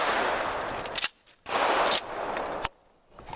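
A shotgun blast aimed at a clay target on an outdoor shooting range in Elk Neck State Forest, a loud broadband burst with a quick decay, followed by a second sharp report a moment later.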